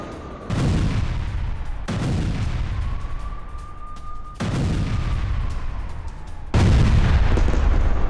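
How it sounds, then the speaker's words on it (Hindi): Heavy bombardment explosions in northern Gaza, four loud booms spaced about two seconds apart, each followed by a rumbling tail and a faint whine between blasts. "उत्तरी गाजा में रात भर भारी बमबारी होती रही।"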